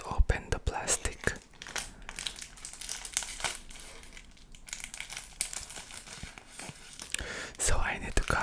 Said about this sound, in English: I need a pair of scissors to open the plastic.